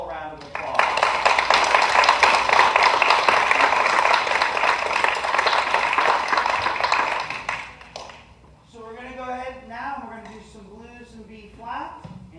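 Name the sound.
audience applause for student jazz band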